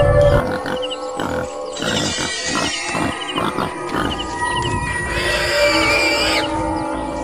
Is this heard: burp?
no